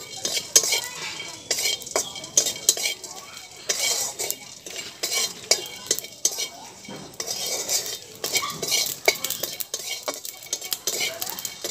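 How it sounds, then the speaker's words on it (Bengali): Whole cloves, cinnamon, cardamom and cumin dry-roasting in a pan, stirred with a spatula that scrapes and clinks against the metal in a steady irregular rhythm, close and fairly loud with no talking. "লবঙ্গ, দারুচিনি, এলাচ ভাজতে একটু দেরি হয়, সেই জন্য আমি জিরেটা একটু পরেই দিলাম।"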